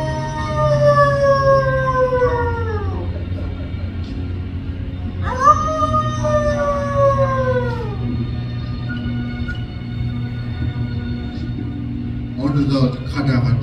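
During a stage show, a performer imitates a wolf with a voice, giving two long, falling howls separated by a pause over a steady low musical backing, then a brief rougher vocal burst near the end.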